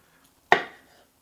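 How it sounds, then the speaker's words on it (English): A single knife chop through Roma tomatoes, one sharp close impact that rings out briefly on a cutting board, with nothing else around it. "everybody's got their own way of chopping up tomatoes"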